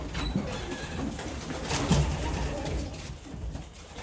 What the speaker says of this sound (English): So, young birds up there.